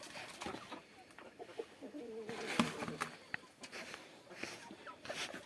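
Quiet clucking from chickens, faint and scattered, over a soft background hum with occasional small knocks.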